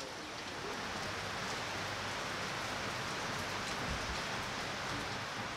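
Steady rain pours outside a painter's workshop at Anse-la-Mouche in the Seychelles, a dense even hiss of drops hitting surfaces, continuous and close with no break.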